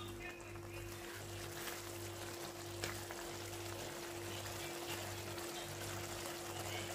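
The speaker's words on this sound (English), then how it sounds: "Now I'm going to add some water." Continuous faint pouring and trickling of about a cup of water into a frying pan over a steady low hum, unbroken for several seconds with no speech.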